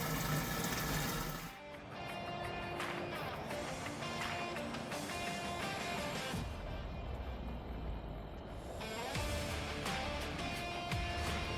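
Fuel, being switched over to E85, drains steadily out of the tank of a 700-horsepower Ford SVT Lightning pickup in a continuous rushing, gurgling flow, with a tonal background hum running throughout.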